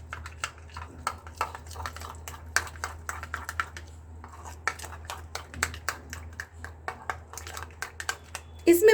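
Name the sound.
mixing green chutney into mayonnaise in a bowl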